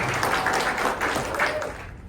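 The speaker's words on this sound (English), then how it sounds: "Another round of applause, please," An audience at a healthcare self-advocacy conference applauds a presenter, a dense, even patter of clapping that stays fairly loud and fades slightly at the end.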